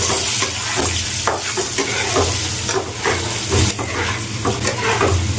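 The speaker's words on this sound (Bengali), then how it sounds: "আলুগুলো ভাজা হয়ে গেছে" Potatoes seasoned with salt and turmeric fry in a pan, a steady loud sizzle broken by repeated scraping stirs, with no voices.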